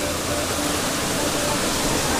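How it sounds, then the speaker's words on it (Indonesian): The Mantawila waterfall roars as a constant, broadband rush of falling water, steady and enveloping with no breaks. "Di sana air terjun Antawila, bosku."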